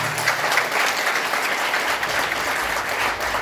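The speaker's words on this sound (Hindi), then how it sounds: "मैं चाहूंगी एक बार उस सुको मैडम के लिए जोरदार ताली होना चाहिए।" Seminar audience applauding for a woman, a steady dense wash of clapping that holds at an even, fairly loud level throughout with no talk.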